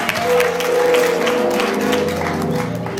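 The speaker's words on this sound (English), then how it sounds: "Give the Lord a hand clap of praise." A church congregation claps hands in praise during a sermon, a loud mass of clapping mixed with crowd voices and a sustained organ or keyboard tone underneath.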